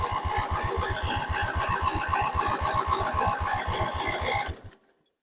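A free lawn mower's small engine cranks and sputters while trying to start, a rapid, even chugging pulse held for several seconds, close and loud, then dying away.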